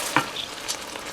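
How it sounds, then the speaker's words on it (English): Beef broth being stirred into beef stroganoff with canned mushrooms in a pan, a soft sizzle and scraping stir with a brief louder clink, quiet and close. "Stir it in there, and it should thicken up fairly soon"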